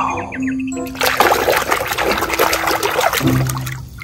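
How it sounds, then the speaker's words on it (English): Water trickles and splashes steadily over plastic sea animal toys during cleaning, a continuous close wash of liquid with a few brief tonal hums at the start and end. "Wow, here is water."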